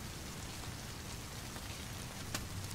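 Steady rain falling on surfaces outdoors, a continuous soft hiss of drops with a faint brighter splash near the end, with no voices.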